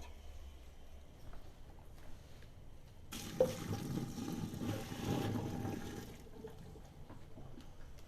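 Pasta water poured out into a copper kitchen sink, a steady rushing splash that swells for about three seconds and then fades to quiet, heard alone and fairly close.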